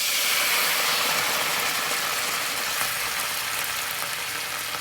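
Onions sizzle in a hot pan with a dense, steady hiss and crackle of frying, loud and close, with no talking.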